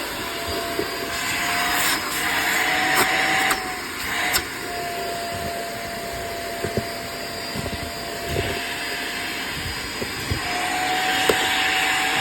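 Cordless stick vacuum cleaner, a Hoover React or Dyson V7, running continuously on a mess test with a steady high whine and intermittent rattles and clicks as debris is sucked up.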